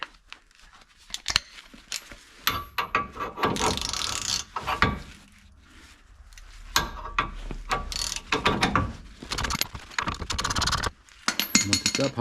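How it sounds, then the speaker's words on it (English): Ratchet and socket turn the torsion bar adjuster on a 2007 Chevrolet Silverado, giving repeated clicking pawl bursts in uneven spurts with pauses between strokes, close and crisp, mixed with metallic scraping and clunks. "Grab your ratchet and grab your socket."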